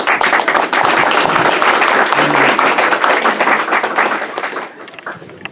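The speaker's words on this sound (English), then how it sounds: "If you could give him a round of applause." An audience at a podium talk on refugees and immigrants applauds a speaker, dense steady clapping that fills the room and then thins out toward the end.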